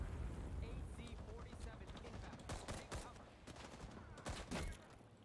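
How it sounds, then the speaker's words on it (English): A placed heavy machine gun firing in a video game, with a fast run of sharp shots clustering into bursts over dense background battle noise, faint overall and with speech mixed in. "I can place a heavy machine gun."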